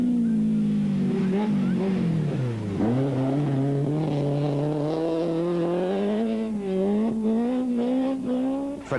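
A dual-fuel Volkswagen Polo rally car accelerates hard, its engine note climbing and dipping through gear changes in a loud, sustained whine with a brief tire squeal.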